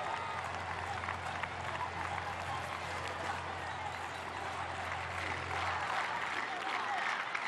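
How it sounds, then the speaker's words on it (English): A large stadium crowd at an athletics track meeting in Naples roars and shouts the chant "Italia", a distant, sustained rumble of many voices and cheering that holds level with a low steady hum beneath. "the crowd shouting Italia"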